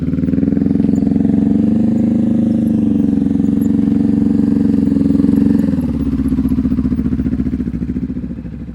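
A motorcycle engine runs at a low, steady idle-like throb during slow-speed riding practice among cones, close and loud, easing slightly in pitch partway through, with no voices.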